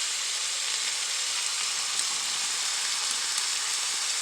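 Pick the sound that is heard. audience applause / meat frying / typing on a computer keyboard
meat frying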